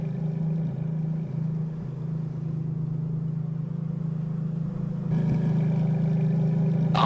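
A car engine idling in Assetto Corsa, a steady low droning hum that holds even for several seconds before stepping up slightly louder and brighter near the end, with no voices over it.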